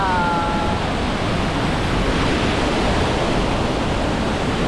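Sayahan Waterfalls in Ormoc City roars as a continuous, loud rush of falling water, broad and unbroken, with no voices.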